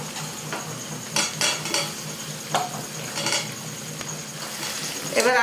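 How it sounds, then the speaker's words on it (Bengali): Fried potatoes are stirred into a jackfruit and soybean curry in a pan. Scattered utensil scrapes and clinks sit over a low, steady sizzle, with no voices. "এবার আলুগুলো দিয়ে এই যে নাড়াচাড়া করে মিশিয়ে নিলাম।"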